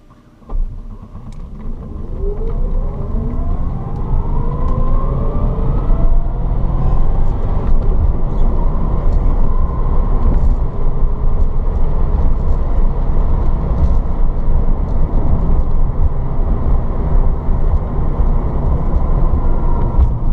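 A 1967 VW Beetle converted to electric drive pulls away, its motor whine rising in pitch as it accelerates while road rumble builds into a loud, steady drone, heard from inside the car without talk.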